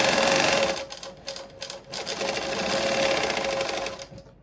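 A GLOBAL WF35 cylinder-arm walking-foot needle-feed industrial sewing machine stitching at high speed, a loud, close, steady mechanical whir with rapid chatter, briefly dipping before running on.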